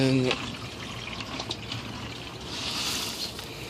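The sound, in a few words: bucket of water being dumped out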